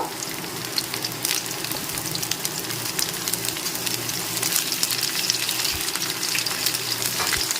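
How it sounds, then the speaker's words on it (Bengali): Okra frying in a pan over a medium flame, a continuous close crackling sizzle with bursts of spattering and occasional stirring noises. "মিডিয়াম ফ্লেমে রেখে ভিন্ডিগুলোকে ভেজে নিচ্ছি"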